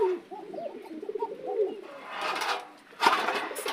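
A pair of Arabian koka pigeons coo in a close series of soft rolling calls, followed by bursts of rustling and fluttering movement, with no talking.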